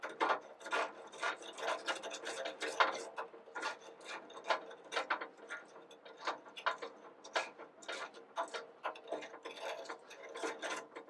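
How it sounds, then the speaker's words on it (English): Muddler grinding orange peel in a glass for an Old Fashioned, a quiet string of irregular gritty scrapes and crunches, close and faint, with no talking. "We're going to muddle this and get them to grind up that orange peel."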